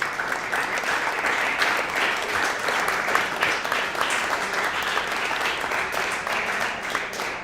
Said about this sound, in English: Please give each other a round of applause because y'all deserve it.